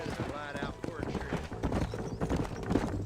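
Hooves of a horse galloping in the video game Red Dead Redemption thud in a quick clip-clop rhythm under game dialogue and a player talking over it, at moderate level.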